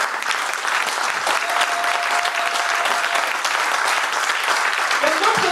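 A church congregation applauds to acclaim the word of God, dense steady clapping from many hands that fills the whole stretch at full level, with a few voices calling out under it.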